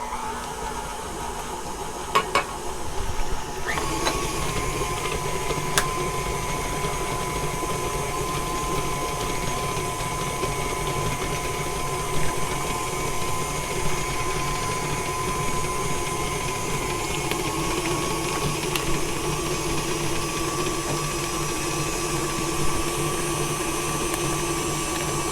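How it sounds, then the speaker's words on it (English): An electric stand mixer whirs steadily while beating eggs one at a time into chocolate chip cookie dough, a continuous motor drone close by with a few brief clicks near the start. "it's best to do it with the mixer running and just until it's fully incorporated"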